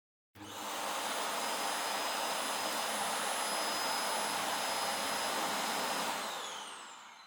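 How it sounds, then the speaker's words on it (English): An Ecovacs DEEBOT N8+ robot vacuum's auto-empty dock emptying its dustbin, a loud, sudden whooshing roar that holds steady for several seconds and then begins to taper off. "here's what it sounds like when it does the empty mode for the docking station"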